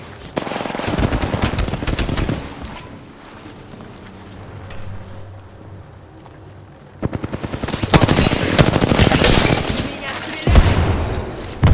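Automatic and rapid gunfire from an Apex Legends match comes in loud dense bursts at the start and again toward the end, with a quieter stretch between, and a player's voice speaks over the action.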